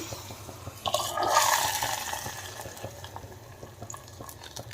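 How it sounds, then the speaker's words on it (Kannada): Bassaru, a village-style lentil and field-greens broth made with sprouted horse gram, bubbling in a pot, with a brief louder gush of sizzling and bubbling early on, then steady soft simmering. "ಸಾರು ಪಕ್ಕದಲ್ಲಿ ಕುದೀತಾ ಇದೆ"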